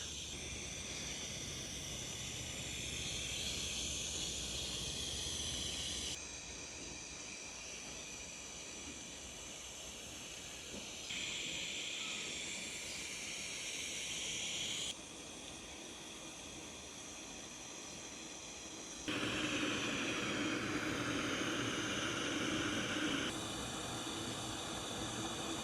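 A BRS-61 jet boiler gas stove burns with a steady, loud roaring hiss while bringing water to a rolling boil, the flame noise shifting in level in several stretches throughout.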